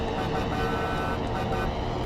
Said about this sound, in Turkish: Şu kornayı daha düzgün bir şey yapsalarmış güzel olurmuş